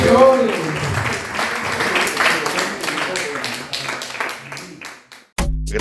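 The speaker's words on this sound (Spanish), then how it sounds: "Denle un aplauso a Dios de dioses" Church congregation applause during a sermon, brisk clapping mixed with voices and music, holding steady before cutting abruptly near the end into a different low, sustained sound.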